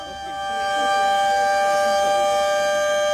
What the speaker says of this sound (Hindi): ये आप उसी सायरन की आवाज सुन रहे हैं।